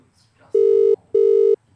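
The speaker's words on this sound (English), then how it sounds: "We're giving him a ring off the media manager's phone." Phone ringback tone while calling someone on a phone: two steady, loud electronic tones, each about 0.4 seconds long, separated by a short gap, with only quiet background between them.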